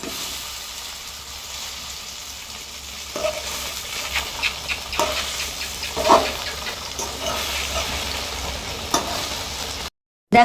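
Kochur pata (taro leaf) pakora frying in hot oil gives a steady, moderately faint sizzle with a few sharper spits and crackles midway, cut off briefly near the end.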